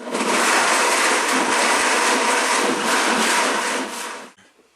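A blender whirs loudly and steadily, juicing vegetables with beets, running close and alone for about four seconds before cutting off abruptly.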